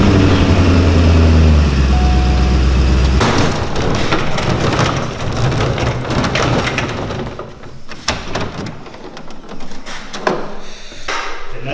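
A BMW E39 540i driving on the road, with a steady low engine hum at first that gives way to broad, rumbling road and cabin noise mixed with occasional knocks and rattles.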